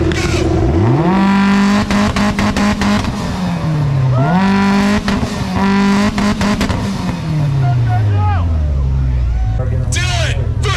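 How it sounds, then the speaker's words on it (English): A Mitsubishi Evo race car at a drag race revs hard on a two-step limiter, then launches with a loud, rising engine wail that shifts through gears before fading, while an announcer talks over it. "Mitsubishi in 3, 2, 1, go!"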